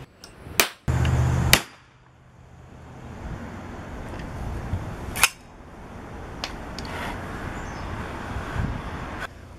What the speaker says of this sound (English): husband used this device that uses blanks to shoot anchor bolts into the concrete